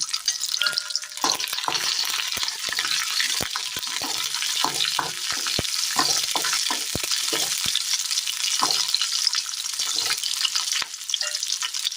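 Black pepper, small pieces of asafoetida and garlic cloves frying in a pan for a Kerala dish. The sizzle is close and steady, with sharp crackles and stirring clicks throughout and no talk.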